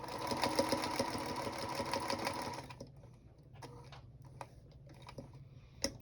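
A sewing machine stitches a quarter-inch seam in a fabric tea wallet, running in a fast continuous burst and then stopping, followed by scattered clicks and taps, close and quiet.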